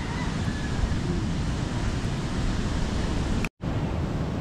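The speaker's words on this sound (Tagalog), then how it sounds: "So ngayon ano yung ating alon, medyo malaki pa rin, no?" Large sea waves break on the shore at Bucana during stormy weather. The surf makes a loud, steady roar and rush, with no talking and only a brief dropout near the end.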